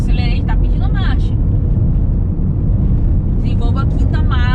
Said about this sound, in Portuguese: Acelerei, tá pedindo marcha.